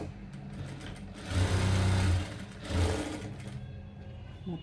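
Sewing machine running in two short bursts while stitching and tucking fabric, a steady close mechanical whir swelling louder in the middle, with quieter motor hum before and after.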